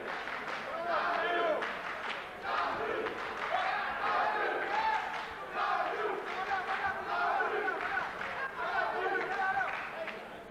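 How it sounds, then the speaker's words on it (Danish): Arena crowd at a professional boxing bout cheering and shouting continuously and loudly throughout, with a commentator speaking over the roar. "Og publikum. Prøv at bære Johnny Bredahl frem til sejr."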